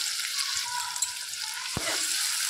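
Sliced onion and crushed garlic fry in a pan, giving a bright continuous sizzle with a spatula stirring through it and one sharp knock against the pan.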